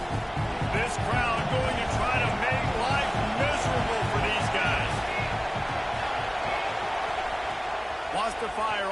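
Stadium crowd at an NCAA football game, a loud sustained roar of many voices with whoops and shouts, heard under a commentator's continuous talk.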